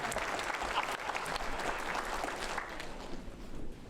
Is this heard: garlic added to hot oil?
no